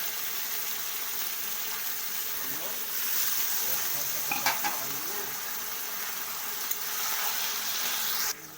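Mutton frying in a pan and being stirred, a steady sizzling hiss with occasional scrapes and clinks of a spoon against the metal pan.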